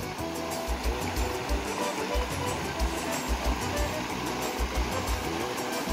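Water of the Rio Salgado running down toward the Castanhão reservoir, a steady broad rushing roar with low rumbling, continuous and fairly loud, with no voices.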